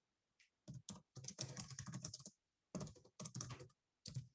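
Quiet typing on a computer keyboard during a lecture on serving machine learning models, with bursts of rapid keystrokes separated by short pauses and no one talking.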